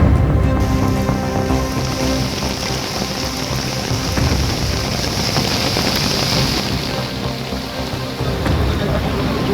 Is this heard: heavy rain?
yes